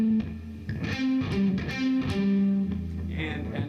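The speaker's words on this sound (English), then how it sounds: "We're going to palm mute while we do the finger rolls" Distorted electric guitar playing a lead lick of palm-muted finger rolls, a run of choppy picked notes with short sustained pitches, close and loud without speech.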